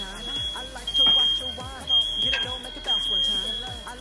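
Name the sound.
smoke alarm beeping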